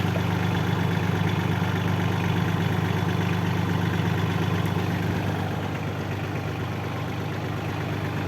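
A diesel tractor engine idles steadily nearby, a continuous low chugging drone that never changes pace.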